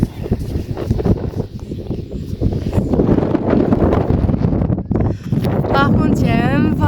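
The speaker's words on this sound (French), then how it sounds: "Par contre, il y a un vent" Seaside wind on a colorful beach buffets the microphone in loud, rough gusts, with people speaking faintly underneath.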